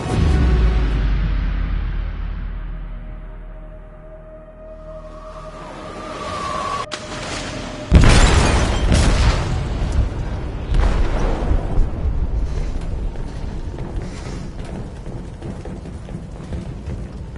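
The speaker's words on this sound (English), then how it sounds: "They detonated an explosive in the hold. The ship is sinking, sir." An explosive detonating in a ship's hold in Detroit: Become Human, a deep, heavy boom that hits suddenly after a quieter rumbling stretch, then rolls on into a long, loud, crackling roar.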